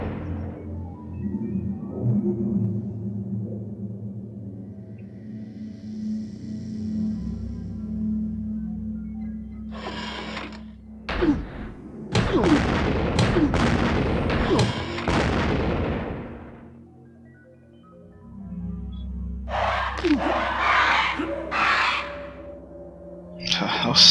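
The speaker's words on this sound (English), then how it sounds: "I'm using the grenades" Grenade explosions in the sci-fi shooter game Broken Helix, several heavy booming blasts in bursts with rumbling tails and quieter gaps between, loud and close.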